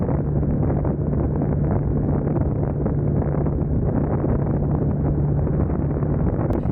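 Wind roars past the microphone while riding a BMW motorcycle with a Boxer engine on the highway, a loud, constant rush layered over a steady low engine hum that holds evenly throughout.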